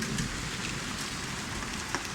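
Heavy hail hammering outdoor surfaces on a night in Saudi Arabia, a thick, constant rattle of icy impacts with occasional sharper knocks close by.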